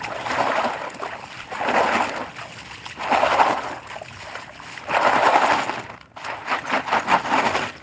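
Water sloshes and splashes in rhythmic surges as a gold pan is swirled and classified at a gold panning station, each wash lasting about a second with short pauses between, close and fairly loud.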